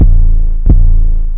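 A distorted 808 bass with a fuzz preset, used in a dark bell trap beat, booms twice in quick succession, deep and loud, each hit decaying into a gritty low sustain.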